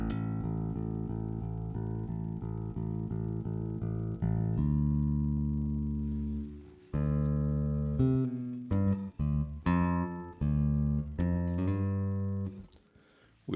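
Sustained synth-like guitar tones through a reverse gate reverb effect swell and cut off abruptly, with a chopped, gated reverb tail and stuttering bursts toward the end; no voices.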